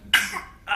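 A young child coughs when asked to, giving one sharp close-up cough and then a second brief cough a moment later in a quiet room.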